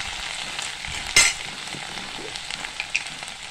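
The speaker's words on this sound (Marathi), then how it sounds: "लसूण, मेथी आणि मिरची आपण चांगली परतून घेणार आहे" Fenugreek leaves, garlic and green chili sauté in a pan with a continuous close sizzle, one sharp utensil clatter and a few light stirring taps.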